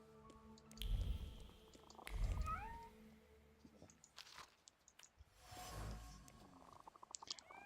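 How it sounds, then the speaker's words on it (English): A cat meows several times in a nighttime scene of The Thaumaturge video game, its cries drawn out and fairly close, set over a soft ambient game backdrop with no talk. "I hear a cat."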